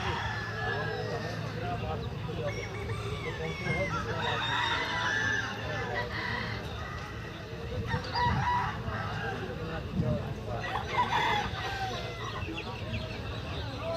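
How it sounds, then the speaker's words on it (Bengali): Roosters crowing and hens clucking at a village cockfight in a tribal neighbourhood, the bird calls rising over steady crowd noise and chatter, with louder crowing bursts near the middle and end. "একজন কিন্তু ওখানে মুরগি ধরে নিয়ে দাঁড়িয়ে আছে"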